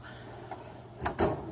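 A metal toolbox drawer, the screwdriver drawer, slides open with two short close scraping rattles, quiet and without speech.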